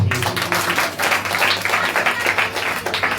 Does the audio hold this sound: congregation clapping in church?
yes